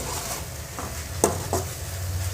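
Semiya being fried and stirred with tomato and onion in a pan, a soft steady sizzle under a few sharp scrapes and clinks of the spoon against the pan.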